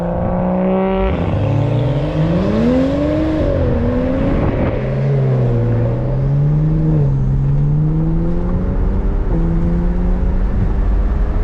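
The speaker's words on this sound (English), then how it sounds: "Will and Jay's N55s, both stage 2, like with basically everything done to them, sounds so ridiculous, bro" Two tuned stage 2 BMW N55 cars with extensive modifications rev hard, loud and close, their engine notes climbing and falling in repeated sweeps over about eleven seconds with no talking.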